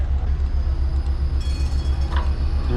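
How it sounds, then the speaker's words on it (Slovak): Trams rumble along a street in Košice, a loud steady low drone with a rhythmic pulse from the running gear, heard close and continuous with no talk. "Električky."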